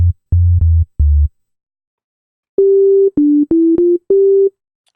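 A pure sine tone from an Ableton Operator synth plays as a series of sustained held notes, first a few low short tones, then after a pause several steady mid-pitched notes with brief gaps, clean and alone.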